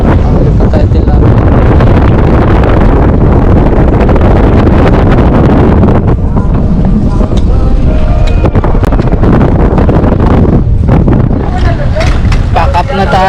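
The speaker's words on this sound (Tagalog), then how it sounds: "Lakas na ng hangin." Strong wind buffets the microphone at a fishing pond, a loud continuous roar with gusty rumbling throughout, while people talk over it.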